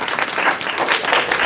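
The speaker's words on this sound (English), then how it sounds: "let's have a round of applause for your parents" Audience applause for the parents of a girls' varsity bowling team at a high school state championship celebration, a steady wash of many hands clapping at close range with no talk.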